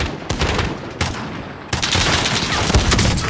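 Gunfire in Call of Duty: Modern Warfare, including a sniper rifle, with several loud, sharp shots spaced apart, then sustained rapid firing over a busy combat background.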